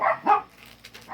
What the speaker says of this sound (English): Don't mind the doggies.